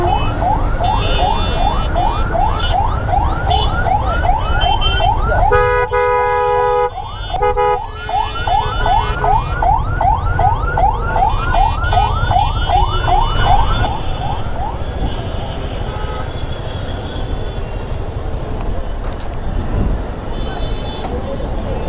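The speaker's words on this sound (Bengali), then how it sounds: "ওইদিকে দুটো অ্যাম্বুলেন্স আটকা পড়ছে" Ambulance siren wailing in steady rising-and-falling sweeps amid a traffic jam, loud and continuous over a background of engine rumble and honking, with people talking nearby.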